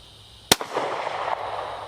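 A single sharp shot from a Smith & Wesson SW40VE pistol fired at a target, a loud close crack followed by a short trailing echo that fades over about a second.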